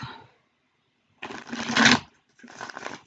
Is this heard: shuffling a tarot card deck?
yes